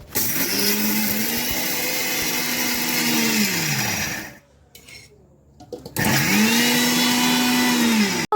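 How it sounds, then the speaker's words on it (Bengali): Electric mixer grinder blending sugar into powder, a loud steady whine that spins up, holds, cuts off for a moment, then runs again at full speed. "মিক্সি চিনি ডাস্ট করবো"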